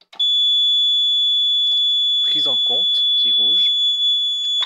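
A fire alarm panel, manually activated, emits a continuous high-pitched electronic tone that runs steadily throughout, while someone speaks French over it.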